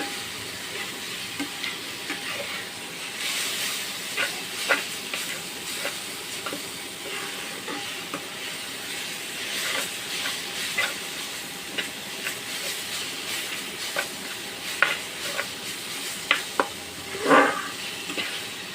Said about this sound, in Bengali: এই পর্যায়ে আমার শাকটা ভাজা হয়ে গেছে, এখন আমি এটাকে নামিয়ে নিব